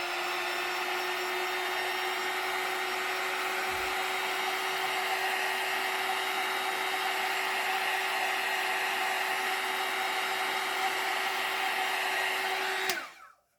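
A hair dryer blows steadily at close range, drying a freestyle drawing on a Christmas jumper, with an even whirring hum and a faint tone that cuts off abruptly near the end.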